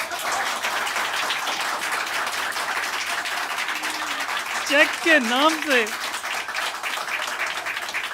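An audience at a comedian's stand-up comedy show claps steadily as a broad wash of applause, while the comedian keeps talking over it.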